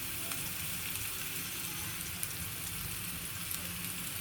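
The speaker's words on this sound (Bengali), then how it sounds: "পেঁয়াজ কাঁচামরিচটা একটু ভেজে নিব" Sliced onion and green chili fry in hot oil, giving a quiet, continuous sizzle with faint crackles throughout.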